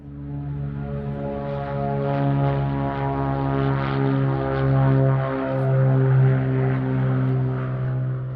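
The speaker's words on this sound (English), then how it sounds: "you're hearing the combustion engine from the chase plane" A propeller chase plane with a combustion engine flies overhead beside a quiet electric vertical take-off aircraft, producing a loud, steady droning hum that swells and wavers slightly as it passes.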